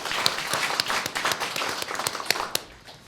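An audience at a ceremony claps in a brief, moderately distant round of applause, with uneven individual claps standing out against a steady patter.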